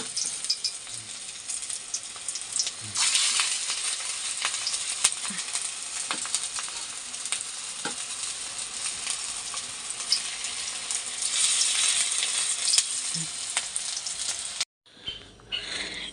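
Fish frying in a pan, giving a steady broadband sizzle with occasional light pops and utensil touches, close and constant until an abrupt cut near the end.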